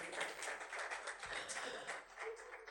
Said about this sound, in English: Please round of applause for them again.